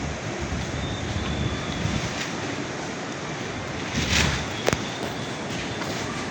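Steady wind roars across the microphone at a seaside surf camp in Lanuza, Surigao del Sur, with breaking surf blended underneath and a couple of brief gusts swelling near the end.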